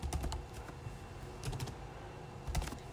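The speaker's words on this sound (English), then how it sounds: "I type in the search box web" Keystrokes on a computer keyboard while typing into a software search box, coming in small clustered bursts of clicks separated by short pauses, close and clear with no voices.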